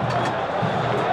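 Vasco football supporters in a packed stadium during the 2011 Copa do Brasil final against Coritiba, a steady roar of crowd noise with a swell of reaction, heard under a commentator's talk.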